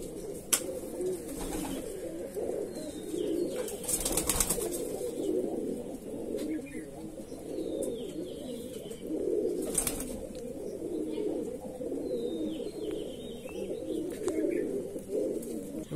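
Andhra Madrasi Dasu Mundisada pigeons coo in a steady, low murmur throughout, with a few sharp knocks and brief rustles over the cooing.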